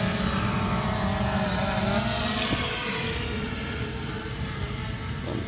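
A steady, loud mechanical whir with a buzzing drone as a mapping drone's rotors spin up and it takes off nearby, running continuously without talk.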